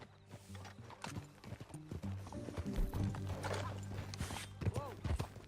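Horse hooves clip-clop at a riding pace in Red Dead Redemption 2, with a horse snorting and whinnying and game music and ambience underneath.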